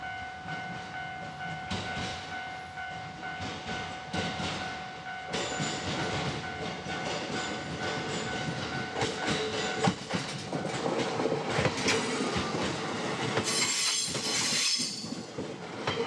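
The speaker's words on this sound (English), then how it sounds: "We take a local train to Naoetsu, and it takes around 90 minutes." Local train on the Shin-Etsu line running toward Naoetsu, a continuous rumble with rhythmic wheel clatter and occasional squeals, heard steadily throughout and building slightly in loudness.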